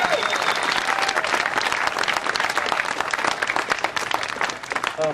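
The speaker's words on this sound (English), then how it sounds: "Let's have another round of applause." A large audience applauds a climber at a Half Dome first-ascent anniversary event, dense sustained clapping filling the whole stretch at close range, with faint voices mixed in and a slight tapering near the end.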